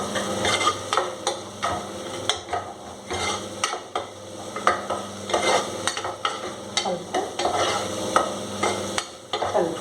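Onions fry in oil in a pan while a spatula stirs them, giving a steady sizzle broken by repeated scraping and knocking against the metal, close and fairly loud with no talking.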